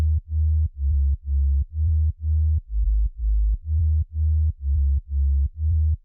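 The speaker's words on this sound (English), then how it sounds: "And underneath this bass layer there's a sub bass," Synthesized sub bass layer for a dance track, a deep low tone pulsing in steady repeated notes of about half a second each, loud and alone with no other instruments or voices.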